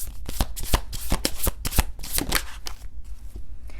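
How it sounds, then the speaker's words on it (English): Tarot cards riffled and shuffled by hand in quick, crisp bursts of flapping paper, close and loud, with no talking. "we'll pull one card for your 4th house."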